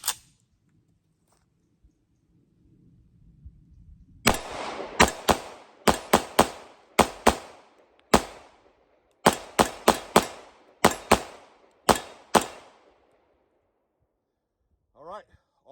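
Rapid gunshots from an IWI Jericho 941 full-size 9mm pistol at an outdoor range, a loud string of sharp cracks fired in quick groups with short pauses between.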